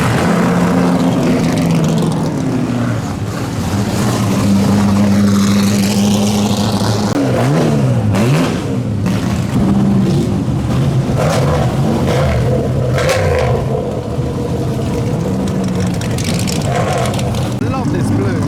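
Small race cars powered by straight-four Austin B-series engines rev and drone at a car show, engine notes rising and falling beneath people talking nearby.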